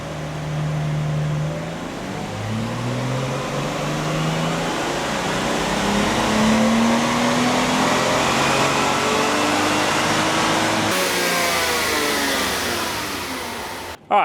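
A stock Lexus IS200 engine revs on a dyno, rising steadily through the gears in a long, loud, continuous climb before cutting off abruptly at the end.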